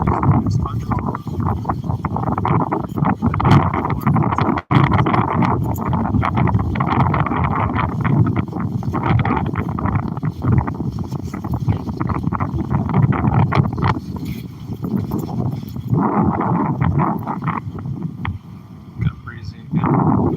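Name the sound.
breezy wind at DuBois Park, Jupiter, Florida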